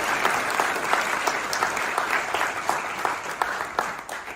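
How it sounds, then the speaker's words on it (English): Audience clapping in steady, continuous applause from a crowd, fairly distant and moderately loud, with faint voices beneath. "So just clap it up for TC"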